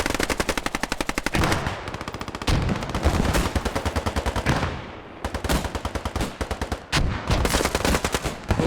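Machine gun fire rattles in a World War II video game battle, long rapid bursts of loud, close automatic shots separated by brief pauses.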